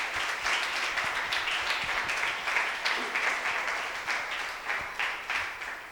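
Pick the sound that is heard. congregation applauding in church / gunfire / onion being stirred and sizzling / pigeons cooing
congregation applauding in church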